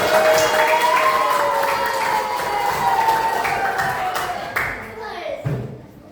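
Fifth-grade pupils in an elementary school classroom clap their hands together in a loud, dense burst that thins out toward the end, with voices and chatter mixed in.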